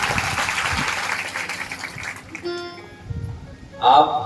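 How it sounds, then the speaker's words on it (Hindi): Audience applause at a religious discourse on the Shiva Purana, a dense burst of clapping for about two seconds that fades into quieter sound with a short tonal flourish near the end. "जोरदार ताली आप बजाइए"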